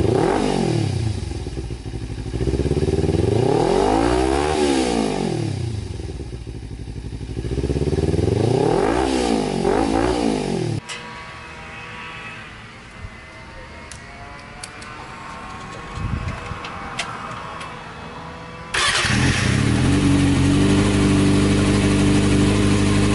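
A Kawasaki ZX6R motorcycle engine revving loud and close, rising and falling through repeated throttle blips, then settling to a quieter idle before surging again at the end.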